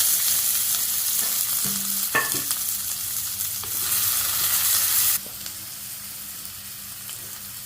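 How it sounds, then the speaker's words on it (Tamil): Onions tossed into hot oil with crackling cumin seeds in a pan for egg ball curry give a loud, steady sizzle, broken by a few stirring scrapes, then the frying settles slightly quieter. "சீரகம் பொரிஞ்சிருச்சு வெங்காயம் போட்டுக்கிறோம்"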